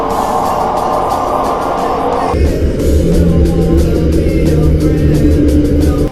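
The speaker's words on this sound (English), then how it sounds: "There's a sound coming from the Pacific Ocean that hasn't stopped since 1991," Low-frequency train-like sound recorded underwater in the Pacific Ocean, a steady loud rumbling drone with a dense low roar that shifts partway through into deeper pulsing tones.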